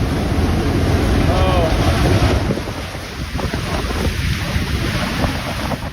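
Strong storm wind during Tropical Storm Ian at Daytona Beach Shores, Florida, roaring and buffeting the microphone in heavy continuous gusts, with surf-like rushing noise throughout.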